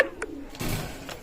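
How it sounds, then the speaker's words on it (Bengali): Teddy pigeons of Pakistani top-quality stock coo softly in a loft, giving a brief, low murmur with a few faint chirps over quiet background hiss. "ডাইরেক্ট র ব্লাড লাইনের টেডি কবুতর"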